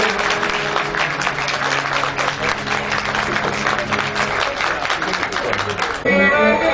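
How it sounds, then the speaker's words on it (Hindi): Loud, sustained applause from a devotional gathering's audience, dense clapping steady for about six seconds before fading into a different tonal sound at the end. "जोरदार तालियां रुकनी चाहिए।"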